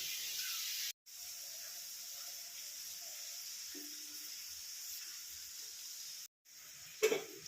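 Ginger and garlic frying in hot oil for a netholi anchovy pickle, with spice powders added, give a steady hiss that breaks off twice before a brief clatter near the end.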